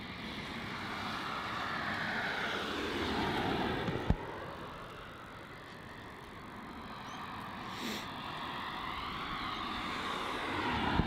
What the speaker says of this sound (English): Sri Lankan on the move there, making its way up to runway 16 for its departure.